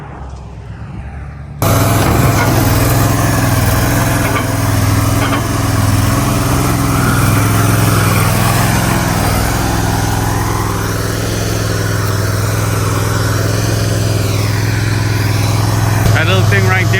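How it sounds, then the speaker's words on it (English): A Dingo TX1000 compact loader carrying a stump grinder runs loud and steady nearby with a constant droning engine, while someone talks over it. "That yellow machine there on the back is a stump grinder."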